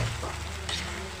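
Adobong upo with sardines is stirred in a sizzling pan, a soft spoon scrape over a steady frying hiss in a short, close take.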